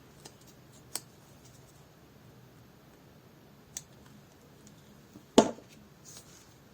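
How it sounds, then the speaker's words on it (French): Scissors snip paper for a black and white collage: a few sharp, isolated cuts spaced seconds apart, with one louder close snip near the end, in a quiet room. "Ce sont mes ciseaux."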